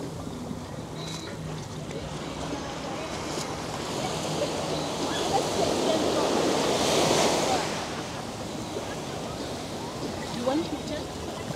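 Steady surf and wind roll along the shore in front of a beach near St. Martin, where a ship is moored. The broad wash swells louder for a moment in the middle and stays close and continuous throughout.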